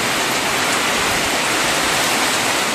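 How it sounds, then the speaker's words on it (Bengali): Steady, heavy rain pours down in a dense, continuous hiss, close and loud with no pauses and no voices. "সকাল থেকে বৃষ্টি শুরু।"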